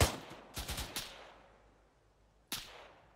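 Rifle fire in the Arma 3 military video game, a quick cluster of sharp shots followed by a lone shot after a pause, each ringing out with a fading tail, fairly quiet and distant.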